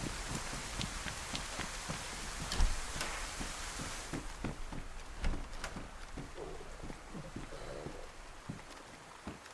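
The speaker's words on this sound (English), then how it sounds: "With the thunder and the rain, I can hardly hear my own words. It's so loud." Heavy rain pours down steadily with thunder in a DayZ Livonia game, a dense, loud hiss with scattered sharp cracks and crackles throughout.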